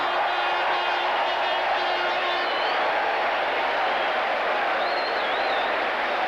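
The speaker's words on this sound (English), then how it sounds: "The crowd applauding Mark Graham" Crowd applause at a 1981 New Zealand v France rugby test match, a steady broad wash of clapping and crowd noise throughout with faint whistles or cheers rising above it.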